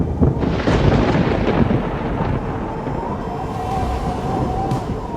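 Thunder rolls and rumbles through a desert canyon during a monsoon thunderstorm, a broad, loud, sustained low roar with no voices.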